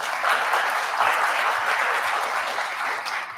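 Steady, dense applause from a crowd, a continuous wash of many hands clapping at even loudness throughout.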